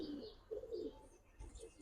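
A Giribaz pigeon coos softly nearby, a few low, throaty rolling calls repeated in quick succession over a faint background.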